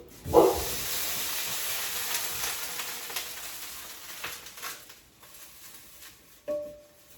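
A hot pan used for eggs is wiped out, giving a close hiss and sizzle that fades gradually, with faint rubbing and a brief sharper scrape near the end.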